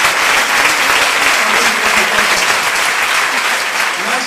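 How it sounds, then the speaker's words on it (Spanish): Loud, dense applause from a concert audience after a performance, steady and close throughout with a few voices lost in the clapping. "fuertísimo aplauso"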